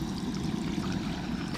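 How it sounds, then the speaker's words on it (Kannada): Water pours in a steady, continuous stream into satay chicken sauce in a pan, a close, even rushing trickle with no other sounds over it. "ನೋಡಿ ನಾನು ನೀರು ಹಾಕ್ತಾ ಇದ್ದೀನಿ ತೊಳೆದಿದ್ದು."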